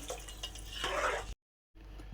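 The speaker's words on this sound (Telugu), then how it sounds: "ఇప్పుడు కొంచెం వాటర్ యాడ్ చేద్దామండి" Water is poured into a pan of gongura meal maker curry, giving a brief splashing pour that swells and then stops abruptly. The sound is close and soft, with a quiet moment before faint kitchen background returns.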